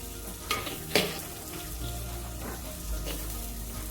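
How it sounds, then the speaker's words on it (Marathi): Onions sizzle and fry in a pan for chicken handi, a steady crackling hiss with a few sharper pops and stirring clatters near the start, close and alone without talk. "कांदा चांगला शिजू द्यायचा."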